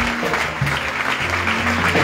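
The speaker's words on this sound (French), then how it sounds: "Applaudissez encore" Applause from a church congregation during a wedding testimony service, a steady wash of clapping mixed with sustained low musical tones underneath, fairly loud and continuous.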